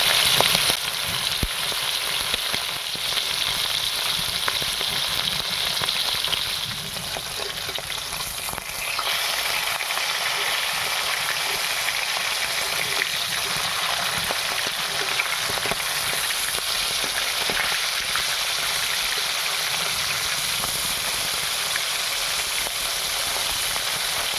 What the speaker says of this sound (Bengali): মাছগুলো ভালো করে কড়া করে ভেজে নেব।